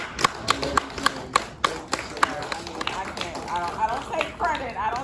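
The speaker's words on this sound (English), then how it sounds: "I didn't realize that she was applauding me" Applause from a person at a Hip Hop Political Party event, irregular sharp claps scattered through the clip under overlapping talk from people nearby.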